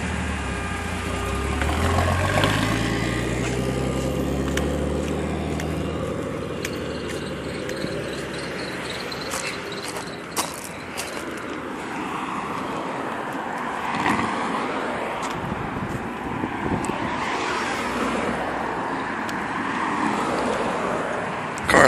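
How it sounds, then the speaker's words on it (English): A Datsun 240Z with a single turbo at 10 psi and a 4-speed gearbox runs nearby, a steady engine drone that is fairly quiet and continuous, with faint outdoor background and a few clicks. "Car sound hella good."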